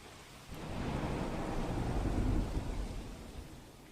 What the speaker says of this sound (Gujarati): આ સવારથી જ વરસાદ વરસી રહ્યો છે।